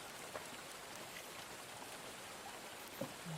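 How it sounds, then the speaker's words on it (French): Continuous rain falls in a dark forest, a faint, steady hiss with occasional soft drip sounds and no other sound standing out. "Il n'y a pas de bruit en soi à part le son de la pluie qui tombe sans discontinuer."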